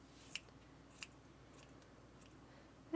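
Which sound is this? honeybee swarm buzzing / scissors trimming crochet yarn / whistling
scissors trimming crochet yarn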